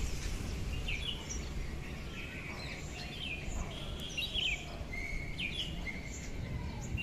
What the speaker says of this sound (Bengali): সুন্দর পাখিগুলো উঠছে,